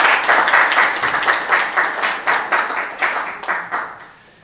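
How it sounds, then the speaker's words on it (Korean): An audience at a smart welfare conference applauds a professor as he comes up to speak. The clapping is close and lively, with distinct claps in a rhythmic, pulsing texture, and it thins out toward the end. "큰 박수 부탁드리겠습니다."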